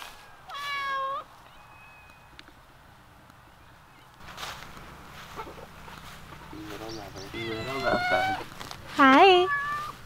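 Barn cats on a small farm meow in short, high, wavering calls, one near the start and a burst of several toward the end, close by and fairly loud, while a person speaks softly in between.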